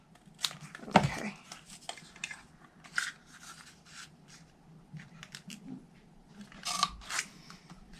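Scissors trim card paper for a Stampin' Up kangaroo Easter gift box, making a few crisp close snips and cuts alongside light rustling of the paper at the table.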